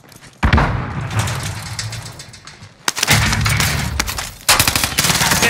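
Rapid automatic gunfire and heavy explosive blasts from a grenade in the video game Warzone, loud and close, with bursts of shooting starting and stopping in sharp bursts and a blast around the middle.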